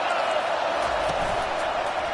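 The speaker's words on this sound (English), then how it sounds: "This crowd knows this defense needs them right now." Football stadium crowd at a Wisconsin versus Penn State game roars steadily as the home fans rally behind their defense, with a dense, unbroken wash of cheering that fills the whole moment.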